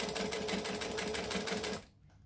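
Sewing machine running a long straight stitch, a close, fast and steady mechanical chatter that cuts off abruptly to near silence.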